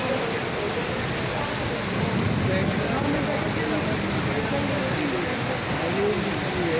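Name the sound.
heavy rain in a storm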